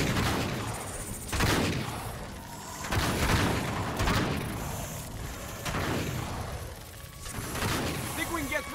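Gunfire from the Uncharted 3: Drake's Deception game: repeated bursts of shots and booming blasts rise and fall in waves under excited shouted dialogue, with mechanical clatter between volleys.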